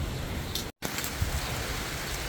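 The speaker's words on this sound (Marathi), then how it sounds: "एवढा पाऊस येऊ राहिला आहे" Steady rain falling during a stormy evening, a soft even hiss with a brief dropout partway through.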